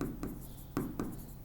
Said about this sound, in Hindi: तो लिखते हैं हीलियम